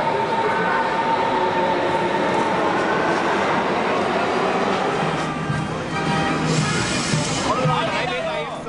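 A new Berlin S-Bahn train rolls into Zoo station with a continuous rumbling, rattling roar of wheels and carriages, a busy crowd murmuring and voices underneath.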